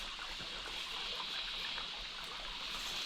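Creek water in New South Wales bushland flows steadily, producing a continuous, even rushing wash with a soft trickle throughout and no voices.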